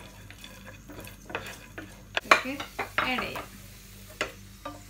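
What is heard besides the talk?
cashews and raisins heating in ghee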